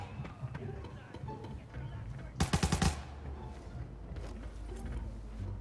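A short, loud burst of rapid automatic gunfire in the Arena Breakout shooter, set on a harbor map, rings out amid continuous game ambience with a player's voice talking before and after it.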